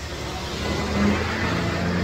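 Engine of a habal-habal motorcycle taxi on the ride to Roty Peaks in Bukidnon, a steady mid-pitched drone that swells slightly as it runs, close and continuous with no talking.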